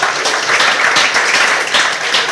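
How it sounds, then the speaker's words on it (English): Audience at a school visit by Hon. Evelyn Anite at Our Lady of Africa S.S. Namilyango clapping for Noreen, a dense, steady burst of applause filling the hall for a couple of seconds with faint voices mixed in. "please clap for Noreen"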